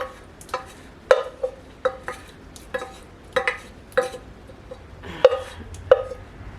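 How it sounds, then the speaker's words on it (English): Sauteed onions and garlic tipped into a soup pot while making split pea soup with leftover ham, heard as a series of clinking utensil taps against the pot with soft stirring and scraping between them, nearby with no talk. "now we're going to add our sauteed onions and garlic to this"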